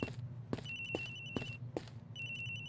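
Repeated electronic cell phone ringtone bursts in the video game Ace Attorney Investigations: Miles Edgeworth, sounding over a low steady background drone and punctuated by several sharp clicking taps.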